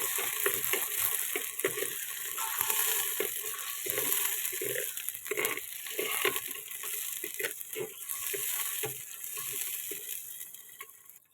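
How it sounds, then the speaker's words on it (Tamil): Small onions sautéing in a pan, a steady sizzling fry with scraping stirs and clatter throughout, loud and close with no talking. "இப்போ சின்ன வெங்காயம் ஆட் பண்ணிக்கலாம். நல்லா வதக்கிக்கலாம்."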